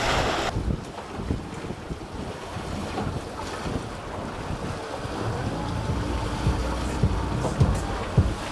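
Strong wind buffets the microphone on a small fishing boat out on open water in rough conditions, a constant low roar with slapping waves and hull knocks underneath, and no speech.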